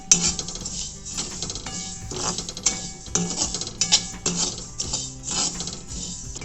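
Whole ajwain seeds being stirred and roasted in a pan while making Solapur-style spicy masala, with steady metallic scraping and clinking of a utensil against the pan throughout, close and continuous with small irregular bursts.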